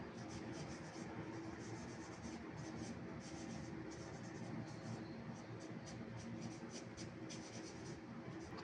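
Tissue paper rubs softly across a realistic pencil drawing of a nose and mouth, a faint, continuous papery swishing in repeated short strokes.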